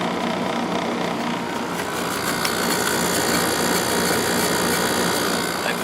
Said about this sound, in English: That compressor sounds just like the bigger one.